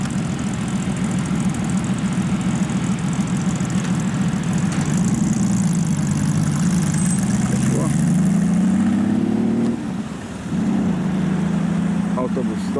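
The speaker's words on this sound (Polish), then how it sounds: "Ładne motocykle przyjechały." Police motorcycles that have just pulled up at the Czarny Dwór bus stop in Gdańsk idle nearby with a loud, low engine rumble. One engine briefly revs higher, then it dips and settles back to idle.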